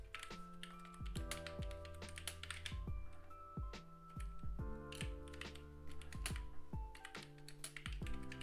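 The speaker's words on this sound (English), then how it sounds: "so let's try to type something" Typing on an iMac G3 keyboard, a close run of crisp key clicks in uneven bursts with brief pauses, steady and moderately loud with no talk.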